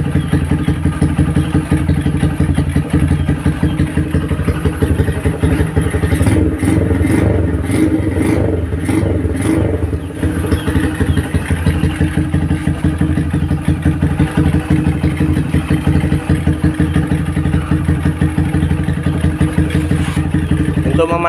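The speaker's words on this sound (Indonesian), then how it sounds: "ini motornya udah hidup ya" A Honda Megapro motorcycle engine idling after its ignition wiring was rebuilt to run without a battery, a loud, steady close rumble with a brief rise in revs around the middle.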